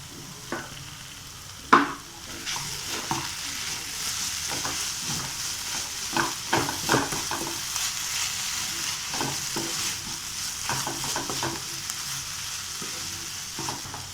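A tomato-sauce masala for bread toast is stirred in a frying pan, a steady close sizzle broken by scraping spoon strokes and one sharp clank near the start.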